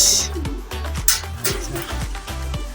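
Racing pigeons cooing at the loft on arrival, a steady repeated rolling coo close by, with brief wing flutters and light background noise.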